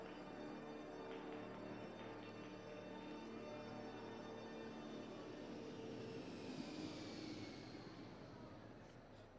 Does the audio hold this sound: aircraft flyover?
yes